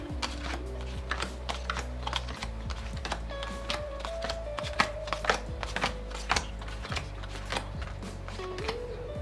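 Tarot cards shuffled, handled and counted, producing a rapid run of crisp clicks, flicks and slaps close by, steady and busy throughout with no talk.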